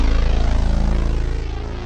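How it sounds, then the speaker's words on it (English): A sweep bass patch on a Roland Jupiter-80 synthesizer sounds a loud, deep pulsing bass with a rapid rhythmic throb as its filter sweeps, fading slightly over two seconds, with no talk. "let's check out one more sound right here, and that is the sweep bass. So another sweepable filter."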